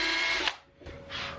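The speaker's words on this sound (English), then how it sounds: "I have this 1 3/4 inch piece that I'm just pre-drilling some holes" A drill bores pilot holes into a 1 3/4 inch wooden piece for a castle bunk bed, whining loudly for half a second, dropping briefly, then spinning up again nearby.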